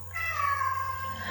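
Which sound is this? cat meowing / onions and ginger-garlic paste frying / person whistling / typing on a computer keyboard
cat meowing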